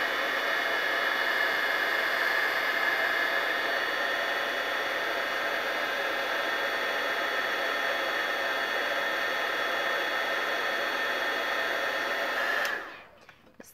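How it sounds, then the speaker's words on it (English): Embossing heat gun heat-setting embossing powder on a stamped card, a steady loud blowing whoosh held for about twelve seconds before it cuts off abruptly. "bring my embossing gun in here"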